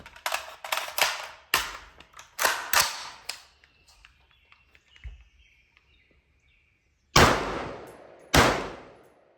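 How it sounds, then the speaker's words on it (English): An H&R M16A2 rifle fires M855 green tip rounds outdoors. A rapid, uneven string of sharp, loud cracks is followed by a quiet gap, then two more heavy shots close by. "let's send some rounds through here. I do have, like 10 rounds of M855 green tip loaded up"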